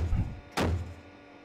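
A CV9035DK vehicle cannon fires a single shot, a sharp boom with a short tail heard at moderate distance, following a brief low rumble.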